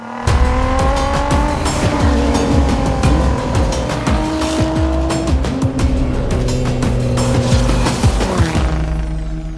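Nissan GT-R R35, a road-legal carbon-bodied track car, driven hard with loud tire squeal over a steady high engine note, gear shifts and scrabbling grip that continue throughout.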